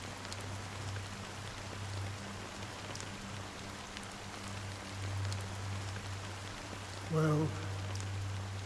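Steady rain patters on surfaces in the Honkai: Star Rail game world, a soft constant hiss throughout with a low ambient drone and a brief louder swell near the end.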